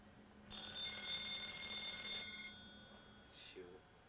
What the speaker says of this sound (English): The phone's gonna ring.